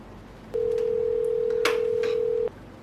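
A telephone tone sounds for about two seconds as a call is placed, a steady single-pitch beep with a brief click partway through, clear over a quiet room.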